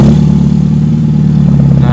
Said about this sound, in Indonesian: Kita injak pedal gasnya sedikit ya. Nah seperti ini, kita starter teman-teman.